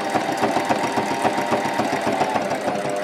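A sewing machine stitching an overcast bookbinding seam on loose sheets runs with a fast, even mechanical chatter, close and steady throughout.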